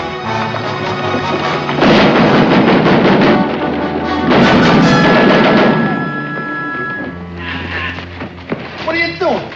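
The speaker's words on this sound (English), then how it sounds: "It's a battery. Battery of rifles." A battery of rifles fires in a volley, heard as heavy booming blasts that swell and fade in two long waves, with a voice speaking in the middle of the scene.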